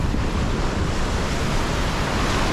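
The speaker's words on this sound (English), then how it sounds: "I like that that there's a lot of waves" Ocean waves at Baththalangunduwa Island, Sri Lanka, a loud, steady roar of surf mixed with wind buffeting the microphone, continuous and close with no speech.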